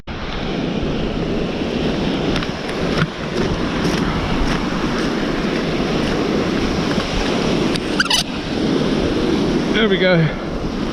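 Surf rolls onto a beach on a summer evening, a steady close wash of breaking waves mixed with wind buffeting the microphone, with a brief spoken remark and a few clicks and rattles near the end.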